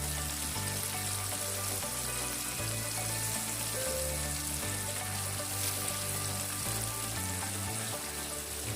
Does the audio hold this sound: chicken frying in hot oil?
yes